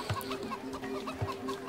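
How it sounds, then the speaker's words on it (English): Chickens in the Divinity: Original Sin video game cluck in short, repeated bursts close by, a continuous soft ambient tone running underneath. "Shouldn't kill anyone's chickens."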